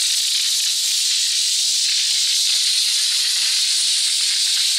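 A Bim steam mop set to maximum power blows out a steady, loud, continuous hiss of steam, unbroken and close throughout.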